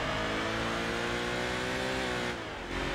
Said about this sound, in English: Oh, yep, that's the rev limiter.